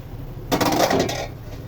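A metal pot lid is lifted off a simmering fish curry, giving one brief metallic clank and scrape in the middle of an otherwise quiet kitchen moment.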